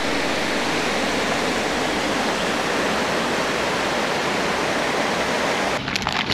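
A waterfall and stream at Zelenci nature park in Slovenia give off a steady, dense rush of water, close and loud. A brief handling clatter sounds near the end.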